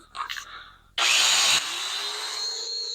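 A domino joiner spins up with a sharp whine and plunges into wood to cut a mortise for a butt joint, a loud high-pitched cutting burst after a few light handling clicks, then settling into a steady motor hum.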